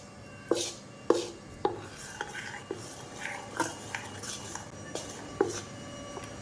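Appe batter being stirred with salt in a bowl, a spoon scraping and clinking against the vessel in irregular, close, moderately loud strokes, with no talking.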